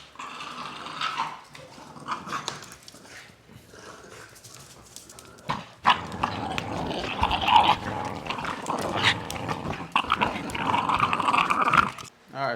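Several dogs growl and bark in an indoor room, a busy, continuous commotion of snarls and yelps that grows louder and more agitated in the second half.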